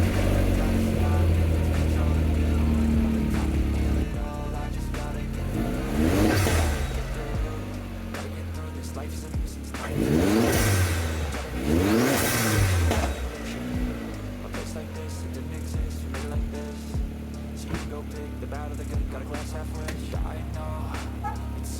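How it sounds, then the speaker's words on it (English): Vauxhall Astra VXR engine fitted with a new induction kit, revving in repeated rising and falling bursts with induction roar, loud and close, a few seconds apart over a steady idle. "I'm going to see how it sounds with the new induction kit, with the bonnet open and bonnet closed probably."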